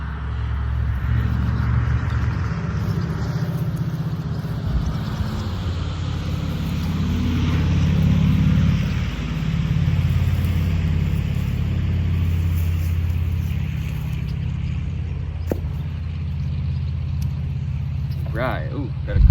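A truck rumbles past outdoors in a garden where wisteria is being trimmed, a broad low engine drone swelling and easing over about twenty seconds, with a person's voice talking over it.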